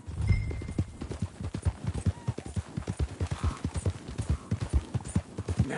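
A horse in a PS4 game trots at an even pace, its hooves clip-clopping in a steady, close rhythm of distinct beats without voices.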